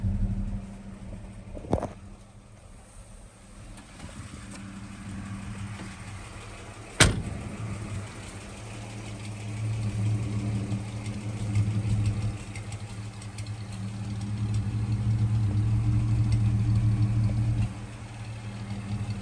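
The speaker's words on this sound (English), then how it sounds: "Turn the key on, hit the starter on the floor. Fires right up." A 1959 Chevrolet Apache Fleetside pickup's inline-six engine cranks and catches after a sharp click, then settles into a steady, low idle that rumbles on evenly for several seconds.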